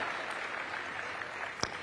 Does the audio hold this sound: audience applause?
yes